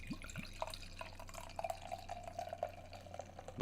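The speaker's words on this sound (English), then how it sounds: "The wonderful glug glug of barley wine." Barley wine glugs and splashes as it is poured into a glass, a close, quiet, irregular run of liquid gurgles over a low steady hum.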